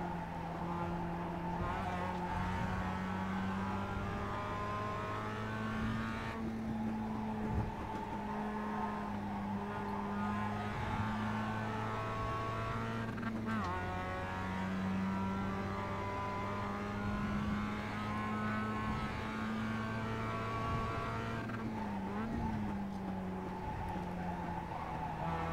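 Mazda MX-5 race car in iRacing, its engine droning steadily at high revs with shifting pitch through gear changes, close and continuous with brief tire-scrub noise, no talking.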